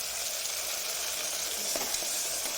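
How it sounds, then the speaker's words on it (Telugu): A ground spice paste of garlic, cinnamon and cloves frying with chopped tomato pieces for a village-style mutton curry, giving a steady, close sizzle with no voices. "వేసి వాటిని పచ్చివాసన పోయేంత వరకు వేయించుకోవాలి"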